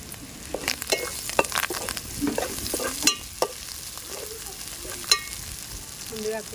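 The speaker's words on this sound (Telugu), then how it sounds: "కరివేపాకు వేసుకున్నా." Curry leaves crackle and fry in hot oil for a raw banana curry, with sharp pops, spoon stirring and scraping against the pan, steady and fairly close, no talking.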